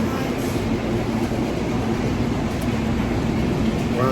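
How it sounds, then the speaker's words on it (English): Continuous low rumble of a tram in motion, steady rolling noise with faint rhythmic clicks, heard from inside the carriage. "We're on the tram."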